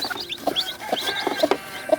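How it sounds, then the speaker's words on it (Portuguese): A tame brooding hen sitting on eggs makes a few soft, short clucks spaced about half a second apart, while high, thin chick peeps chirp quietly around her. "E essa galinha, ela é bem mansinha, é ótima para incubar ovos."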